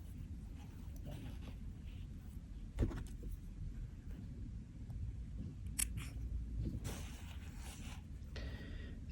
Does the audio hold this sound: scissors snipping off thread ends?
yes